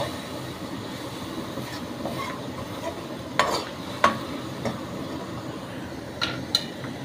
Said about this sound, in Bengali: আমি এই ধনে পাতাটার সাথে মাংসটাকে বেশ কষবো